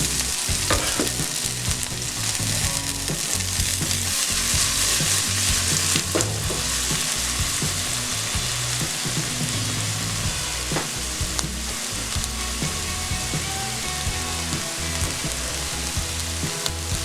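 Scallions and onions fry in a pan for a vegan pumpkin spice rasta pasta, giving a steady, loud, close sizzle with occasional stirring scrapes throughout.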